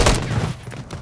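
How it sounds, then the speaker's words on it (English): Gunfire in the video game Call of Duty: Modern Warfare 3, a loud, close burst of shots with a booming low-end thump that rings out briefly. "How many people shooting?"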